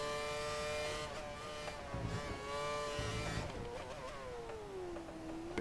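Williams Formula 1 car engine in the F1 2013 racing game on the Korea circuit, a steady high-pitched whine rising and falling through gear changes and cornering, loud and continuous for several seconds.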